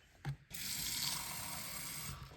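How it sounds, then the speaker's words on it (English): Cold tap water runs steadily into a cup, a close, even rushing stream after a brief knock at the start, with no talking. "So go ahead and fill the cup with cold water."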